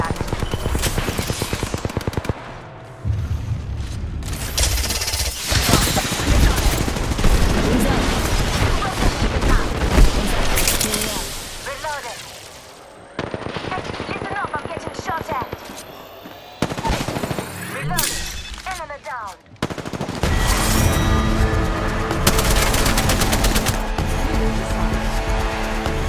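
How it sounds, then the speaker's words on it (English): Gunfire in the Apex Legends video game: loud, close bursts of automatic weapon fire and single shots crackle in long rapid volleys, broken by brief pauses and a few booming impacts. "Getting shot at."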